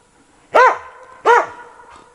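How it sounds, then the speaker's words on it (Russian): A dog barks twice, close and loud, evenly spaced, with a faint third yelp trailing after. "кого-то лает"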